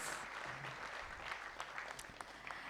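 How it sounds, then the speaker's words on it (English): At an anniversary conference, a hall audience applauds for a fragrance company with a steady, fairly faint wash of clapping, scattered sharper claps standing out, lasting the whole few seconds. "Please have a huge round of applause for Trinity Aromatics."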